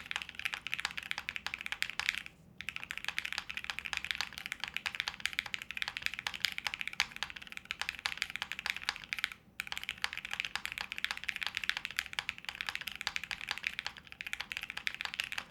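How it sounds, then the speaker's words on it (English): Fast, continuous typing on a prototype mechanical keyboard with Holy Panda switches and PC plates, giving dense, crisp, close-up key clacks with two brief pauses and no talking. "let's see what the keyboard sounds like here"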